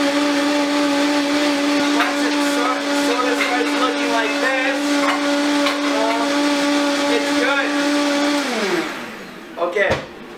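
A blender runs at top speed pureeing a green zucchini and butternut squash soup, a loud steady whine that holds for about eight seconds, then winds down to a stop with a thud or two at the end.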